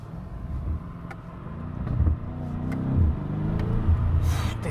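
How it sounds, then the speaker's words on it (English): BMW M5 Competition engine pulling under throttle as the car accelerates along a road, a steady low rumble with a few swelling surges, heard from inside the cabin. "Now we're coming to a road where I can step on the throttle a little bit."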